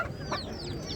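Chickens cluck quietly among the fowl for sale at a poultry market in Ganja, with short, faint clucks over a low background murmur.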